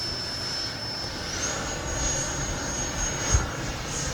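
An E-flite Viper 90mm RC jet flies overhead with a steady, loud ducted-fan whine and a faint high tone, holding even in level flight with one brief thump near the end.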